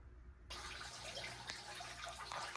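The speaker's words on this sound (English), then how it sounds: "You can hear it going. We have started the water change." Water runs steadily during a water change for a roly poly enclosure: a close, continuous rushing hiss that starts abruptly and holds at even strength, with no talking.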